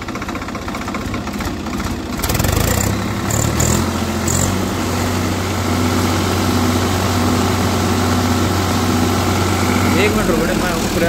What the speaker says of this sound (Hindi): बाकी भाई आवाज भी तगड़ी प्यारी है भाई ट्रैक्टर की।